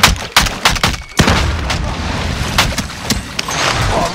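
Sharp gunshots and a heavy blast crack through a Call of Duty: Modern Warfare firefight, a loud explosion near the one-second mark followed by scattered shots and rumbling debris.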